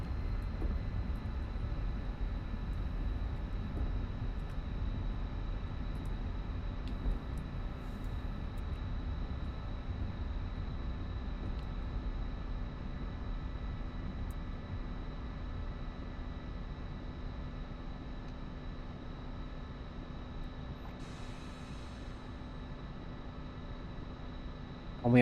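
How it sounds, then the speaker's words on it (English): A MiG-21 jet engine idling after landing in the DCS World flight simulator, heard from the cockpit as a steady low rumble with a constant high whine and faint clicks, unbroken for the whole stretch. "Haven't flown the MiG-21 for a while. But it gives you an opportunity to hear the sounds"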